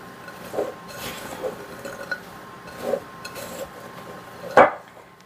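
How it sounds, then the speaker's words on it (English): A spatula scraping and clinking against a pot or bowl as candied pecans are tossed in cinnamon sugar: sparse, intermittent stirring knocks, fairly faint, ending in one sharper clink, with no talking. "And we're going to mix again, making sure every pecan gets good and coated."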